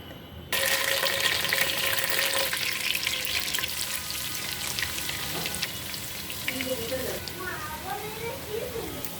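Oil and ghee hiss and sizzle steadily in a pan as spices start frying for khichuri, a dense continuous crackle close up, with some stirring clatter later on.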